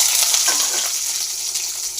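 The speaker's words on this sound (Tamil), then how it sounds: "வெங்காயம் நல்லா வதக்கிக்கலாம்." Sliced onion sizzles and fries steadily in oil in a pan with mustard seeds and red chillies for a mixed chutney, a continuous close hiss with faint stirring.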